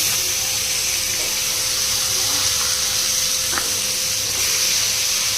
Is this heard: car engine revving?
no